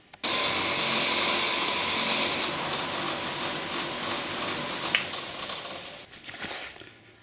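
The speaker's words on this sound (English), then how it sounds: "Polish up in the wire wheel, and then I'll try and put the pin in it." A Viking-style brooch is buffed on a spinning wire wheel, giving a steady loud whirring grind that runs for several seconds, shifts slightly in pitch midway, then winds down.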